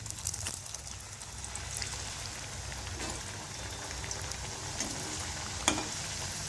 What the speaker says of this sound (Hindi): तो सारी पूरियां हम इसी तरह से फ्राई कर लेते हैं।